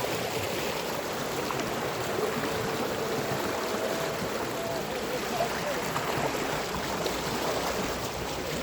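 Stream water flows in a steady, even rush with no pauses, a broad continuous wash of moderate loudness close by.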